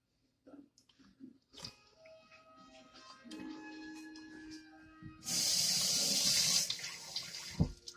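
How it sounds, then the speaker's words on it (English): Scattered camp-cooking clatter, then a loud burst of running tap water hisses for about a second and a half before a final knock. "Let me rinse this off before I put it on my clean plate."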